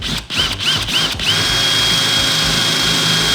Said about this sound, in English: now it's drill time